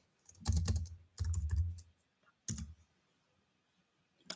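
Bursts of computer keyboard typing in short clusters with pauses between them, fairly close and moderately loud, with a final brief tap at the end; no one speaks.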